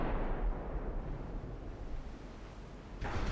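Heavy naval shells crashing against a warship's armor in Ultimate Admiral Dreadnoughts, a dense, continuous low rumble of impacts and blasts with a fresh burst near the end.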